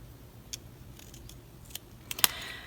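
Scissors snipping angles into paper while altering paperclips: a few faint, sharp clicks spread over the clip, then a louder crisp snip near the end, close up in a quiet room.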